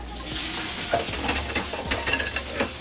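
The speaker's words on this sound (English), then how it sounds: "first thing we do is cook the fat" Pork fat sizzles in a pan at the start of a pork adobo, with a spoon stirring and scraping through it in irregular bursts, close up and fairly loud, with no one speaking.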